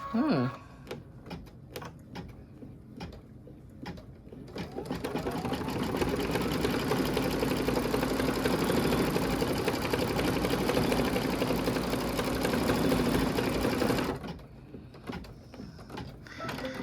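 An embroidery sewing machine stitches a Kimberbell pickup truck quilt block in a loud, rapid, even mechanical chatter that runs for about ten seconds, framed by quieter moments of handling clicks and brief talk before and after.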